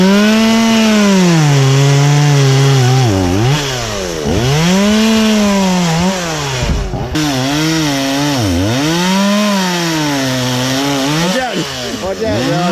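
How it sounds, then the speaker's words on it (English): Three chainsaws cutting wood to clear a dirt bike and ATV trail on a farm whine loudly and continuously, engines revving up and down in overlapping swells as blades bite, with voices faintly under the noise. "Boy, this cleared off pretty quick when you got 3 chainsaws going."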